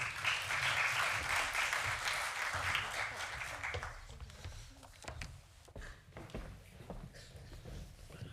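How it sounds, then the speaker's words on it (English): An audience at a UK internet governance conference breaks into warm applause. The clapping is loud and dense at first, then thins into scattered claps and some shuffling noise as it fades. "Please give them a warm round of applause."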